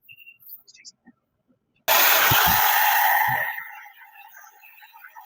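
Hair dryer on a cool setting, blowing freshly conditioned hair: a loud steady airy roar switches on abruptly, runs for under two seconds, then drops to a softer hum.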